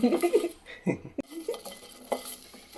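Grated coconut is stirred in a metal pan while it roasts, giving a few scraping strokes and light clinks of the utensil against the pan in a short burst, close and moderately loud.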